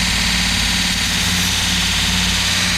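A Vevor belt grinder sander runs at low speed, a steady close motor hum and whir that continues unchanged with no voices.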